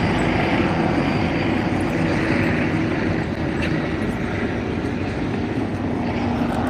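Helicopter flying overhead, a steady broadband rotor and engine roar that stays loud and constant throughout, with no talking.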